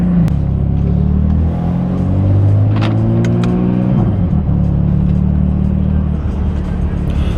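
A BMW F82 M4 engine with front mount intakes, in M1 sport mode, revs hard and close, its deep roar climbing and falling in pitch as the throttle is blipped, with a steady rumble throughout.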